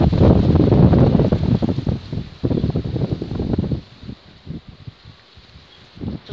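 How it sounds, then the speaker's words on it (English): Strong gusty wind buffets the microphone on an exposed stretch of coast at Sunderland Point, Lancashire, roaring loudly for several seconds before easing into fainter rumbling gusts, with a final burst near the end. "it's so windy I can't even hold this straight"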